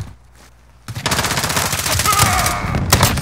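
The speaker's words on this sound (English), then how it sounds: "Gunshots over here, kind of suppressed." Rapid bursts of gunfire in Modern Warfare gameplay with a 725, starting after a near-silent second and continuing as dense, fast repeated shots, loud and close, with a brief break near the end.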